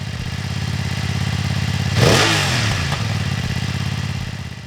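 BMW F900R motorcycle with a closed-loop three-way catalytic converter, its engine idling steadily nearby, then a sharp rev climbing and falling back around the midpoint, with a faint mechanical clatter.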